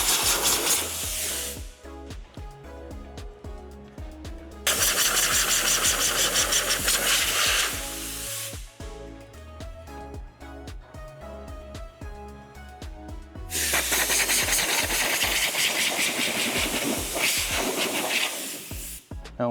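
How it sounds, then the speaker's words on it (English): A small air compressor blows water out of the crevices of a 2022 Mercedes-Benz S-Class, with two sustained, loud hissing air blasts, each several seconds long, and a quieter mechanical hum running between them. "But here, I get a little compressor."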